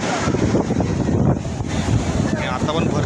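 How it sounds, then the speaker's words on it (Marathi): Sea waves roll in on the rocky shore near the Ganpatipule temple on the Konkan coast, a loud, continuous wash of surf buffeted by strong wind rumbling against the microphone. "संपूर्ण देवळाच्या फक्त थोड्या अंतरावर म्हणजे 50 फुटावरती समुद्राच्या लाटा येतात."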